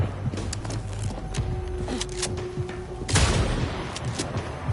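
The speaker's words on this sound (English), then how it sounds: "Opening fire!" Gunfire in Vampire: The Masquerade Bloodlines 2, rapid overlapping shots and sharp cracks in quick bursts, loud and close, with a heavier volley near the end over game background noise.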